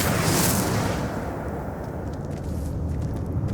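An Incendio fire spell cast in Hogwarts Legacy bursts with a loud fiery whoosh and boom, then settles into a steady rumbling roar with no one talking.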